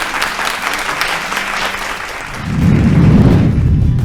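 A studio audience on a family game show breaks into sustained applause for the runner-up, a broad continuous roar of clapping that swells louder and fuller in the last seconds.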